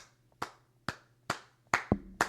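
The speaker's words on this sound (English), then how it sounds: "Big claps for Oklahoma." Hand claps from one person, five or six sharp, spaced slaps at roughly half-second intervals, close and fairly loud, with a faint low hum between them.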